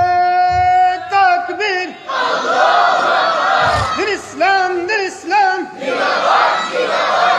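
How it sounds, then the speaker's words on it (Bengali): A large crowd at a Bangla religious sermon shouts takbir loudly in unison, answering a preacher in repeated swelling chants with short pauses between them. "একবার জোরে সুরে তাকবীর দেন"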